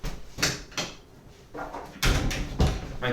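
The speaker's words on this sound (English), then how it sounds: "I have to close this door." An indoor door is pushed shut, giving several close knocks and thuds with soft rustling between them, ending in a firmer bump.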